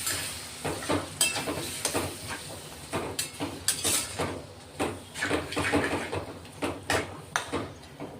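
Masala for a mung bean usal simmering in a pan with a little added water over a low gas flame, giving a soft, uneven sizzle with scattered light spoon-scraping clicks, quiet and close.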